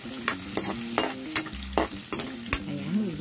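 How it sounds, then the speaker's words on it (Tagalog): Onion sautéing in a pan for a Filipino binayong hepon dish, with a steady sizzle broken by a handful of sharp scraping stirs at irregular intervals, close and moderately loud, no talking. "Ayan, igisa-gisa lang natin ang mabuti."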